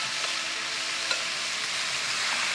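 Lobster pieces frying in a hot pan for lobster pasta, a dense, even sizzle that holds loud and steady throughout with one faint tap, no voices.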